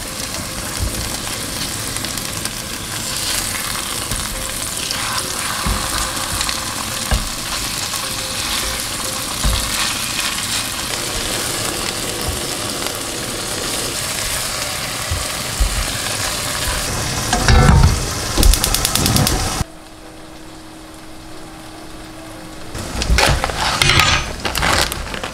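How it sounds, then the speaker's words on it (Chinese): Tofu sizzles as it fries in a home kitchen pan. Stirring and scraping run through the steady crackle, and it grows louder and more agitated in bursts near the end, with brief quieter gaps. "豆腐待会翻面再煎一下"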